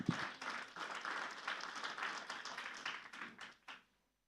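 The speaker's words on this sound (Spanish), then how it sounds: "Recibamos con un fuerte aplauso." A church congregation applauds at a Sunday service as singers come up to perform, a soft, fairly even wash of clapping that fades out and stops near the end.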